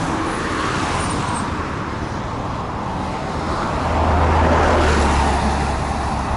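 Car traffic crossing the Rio-Antirio bridge in Greece, a steady close rumble and tyre hiss from passing vehicles that swells louder in the later seconds as a heavier vehicle goes by, with wind noise throughout.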